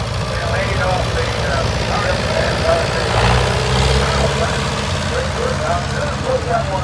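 A John Deere tractor with electric start idles steadily in a tractor parade at an Oliver show in Boonville, Missouri, a continuous low engine drone running throughout with people talking over it.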